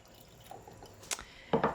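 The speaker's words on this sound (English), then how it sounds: "So I'm gonna pour that into my cold brew." Water is poured into cold brew coffee in a kitchen. A few soft drips lead into a short, close splash of pouring at the end.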